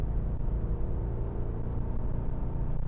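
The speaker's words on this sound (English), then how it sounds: "the sound effect of full bore race mode for a couple of seconds" A Mercedes-AMG GLE63s 4Matic+ engine runs in full bore race mode, producing a steady, deep, rumbling roar for a few seconds. Nobody talks over it.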